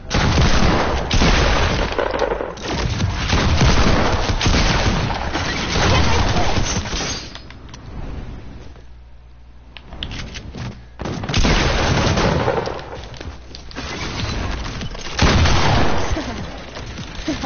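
Gunfire from a weak weapon in a video game, dense bursts of sharp shots and booms in loud clusters with a short quieter gap midway, under excited talk.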